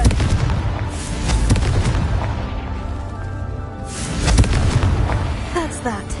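Confringo explosive spell cast in the video game Hogwarts Legacy, a loud booming blast with rumbling crackle that swells and fades, then a second burst, under faint game sounds and a voice.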